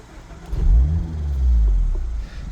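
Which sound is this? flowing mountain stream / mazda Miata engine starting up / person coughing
mazda Miata engine starting up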